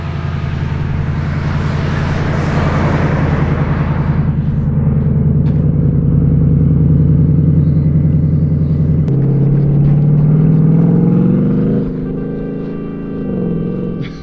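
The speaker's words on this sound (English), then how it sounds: "So I managed to get the car moving forwards and carried on all the way up the trail" A car engine revs hard while the vehicle drives out of desert sand on a trail. A loud, steady low drone holds throughout and climbs in pitch toward the end.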